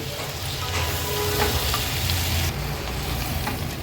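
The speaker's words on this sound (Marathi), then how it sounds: "भाजी ॲड केल्यानंतर ह्या मसाल्यामध्ये ही भाजी मी व्यवस्थित परतून घेते" Mixed vegetables for a traditional Bhogi bhaji are stir-fried in a spicy masala, giving a loud, close, constant sizzle broken by occasional scraping and stirring clatter, with no voices.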